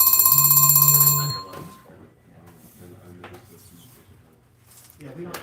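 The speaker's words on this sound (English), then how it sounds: "it's the phone that's actually ringing" A telephone bell rings loudly and steadily for over a second during a live knife-cutting stream, then stops as people talk quietly over faint background sounds.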